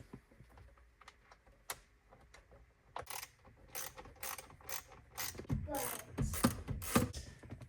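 A ratchet works 10 mm bolts on a Jeep Wrangler steering wheel install, giving quiet bursts of rapid clicking that grow busier toward the end, close but faint, with no talking.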